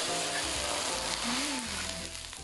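Water poured into a hot pan of darkened, scorched rice for rice coffee hisses and sizzles steadily, a dense crackling frying sound, close and loud, with a faint tone sliding through briefly.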